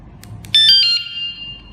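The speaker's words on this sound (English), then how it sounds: "when it is an alarm and I am beside, so how to stop this alarm?" A KS-SF22R vehicle security alarm gives a couple of faint chirps and then a short, sharp electronic tone that fades into a lingering ring, heard alone.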